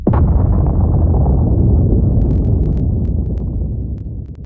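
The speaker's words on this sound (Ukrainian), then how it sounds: "Ось це Кастл Найпотужніша ядерна зброя, яку коли-небудь підривали США." The Castle Bravo nuclear weapon test explosion: a loud, deep blast bursts at once, then rolls on as a long, heavy rumble that slowly fades, with a few faint sharp crackles near the end.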